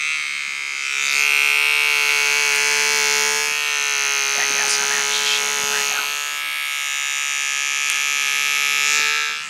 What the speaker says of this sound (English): one of the best sounds that I know of, shaving